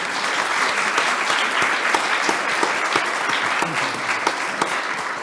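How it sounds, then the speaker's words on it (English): A full audience at a professional surveyors' event breaks into dense, sustained applause, loud and close, a continuous wash of many hands clapping. "So that deserves a round of applause."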